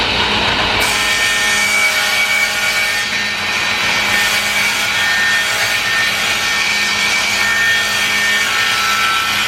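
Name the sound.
saw ripping plywood into strips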